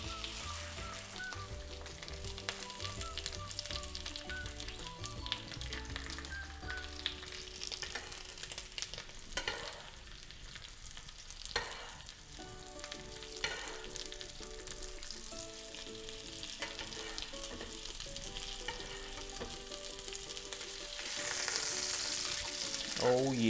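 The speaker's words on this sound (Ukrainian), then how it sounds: "Добре розігріли масло і кидаємо смажитися." Steady sizzling and crackling of chicken breast frying in hot oil, continuous and close, with a few clinks and stirring noises over the top.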